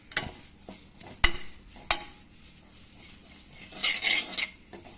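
Spices being stirred and roasted in a pan over a low flame, with a few sharp scrapes and taps of a spoon against the metal over a soft, steady sizzle.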